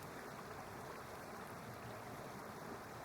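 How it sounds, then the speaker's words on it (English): A waterfall rushes as a soft, unbroken broadband wash, even and faint, with no voices over it. "The sound of waterfalls swells around you"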